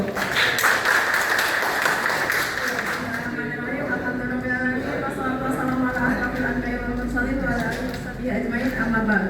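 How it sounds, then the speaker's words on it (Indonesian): Indonesian community meeting audience of neighbourhood RT and RW heads in Cengkareng Barat clapping, a dense burst of applause at the start that fades into murmuring and a voice talking over a low hum. "Aplaus dulu dong Bapak Ibu"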